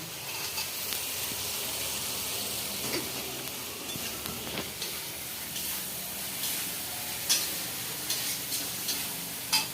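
Shrimp fry in a pan for a leafy greens and prawn ghonto, giving a steady, moderate sizzle with faint scraping and a few soft clicks, no voices.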